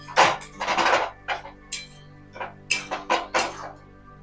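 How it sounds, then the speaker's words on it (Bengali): A mixture of ground yardlong beans and shrimp stirred in a pan: about ten uneven scraping and clinking strokes of a utensil against the metal, close by, with no talk. "সবগুলোকে আমি একসাথে নেড়ে নিচ্ছি।"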